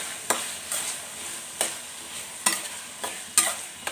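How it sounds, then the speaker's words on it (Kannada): Chopped carrots and beans fry with onion and green chilli in a pan, a soft sizzle broken by several sharp scraping stirs at irregular intervals. "ಸೊ ಅದಕ್ಕೇ ನಾನು ಕಟ್ ಮಾಡಿರುವಂಥ ಕ್ಯಾರೆಟು ಹಾಗೆ ಬೀನ್ಸ್ನ ಹಾಕ್ತಾಯಿದ್ದೀನಿ."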